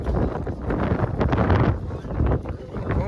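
Strong wind buffeting a microphone on Girnar mountain, a loud, continuous roaring rumble that surges and eases in gusts, heard close with no talking.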